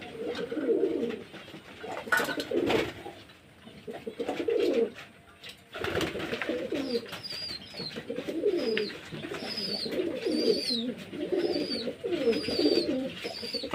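Pigeons in a loft coo repeatedly in overlapping rounds, with a few faint higher chirps from other birds, close and moderately loud, with no talking.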